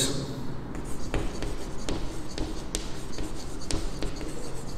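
Pen or marker strokes scratching out a maths solution by hand for a linear equations problem, with short repeated scribbles and taps at close range, no talk heard.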